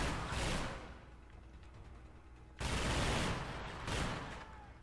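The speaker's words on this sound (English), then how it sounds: "How many bullets am I shooting on this thing?" Gunfire from the video game Chronicles of Riddick comes in two long, loud bursts of rapid shots separated by a quieter lull, dense and continuous with no talk.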